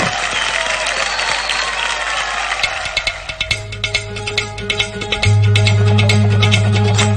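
On the Indian Idol television singing show, a studio crowd cheers for a singer. The applause is dense at first, then thins into scattered claps as sustained music tones come in underneath.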